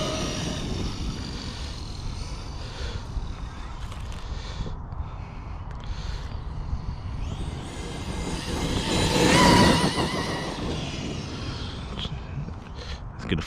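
A Traxxas Xmaxx 8s RC truck runs with a steady, gritty motor and drivetrain roar that swells louder for a moment as it passes close, then settles back to a constant rumble.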